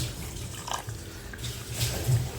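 Water poured from a glass into a pot of beef curry with salted meat, a steady close splashing that swells toward the end.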